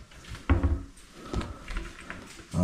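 A pull-out cabinet basket is slid open and shut, giving several close thumps and rattling slides of the metal basket in its kitchen cabinet runners.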